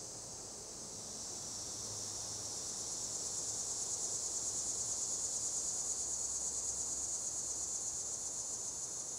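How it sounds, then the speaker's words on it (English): A steady, loud buzzing drone of a male cicada calling, continuous and unbroken, swelling slightly and holding at full volume with no other sounds. "is the call of the male cicada"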